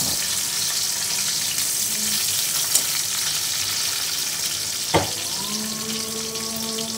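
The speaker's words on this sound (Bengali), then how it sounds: "আর কড়াইতে আমি তেল দিয়ে দিলাম। এই যে দেখো আমি কিছুটা পেঁয়াজ দিয়ে দিলাম এখানে।" Onions frying in oil in a wok (kadai) during home cooking, a steady broadband sizzle throughout, with a couple of sharp utensil clinks and a faint tonal hum near the end.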